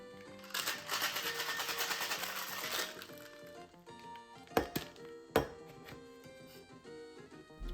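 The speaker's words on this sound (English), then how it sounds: "shake for about 10 to 15 seconds" Cocktail shaker with bourbon and ice shaken hard for a few seconds, a steady dense rattling burst that stops abruptly, followed by a couple of sharp clinks and knocks of glassware.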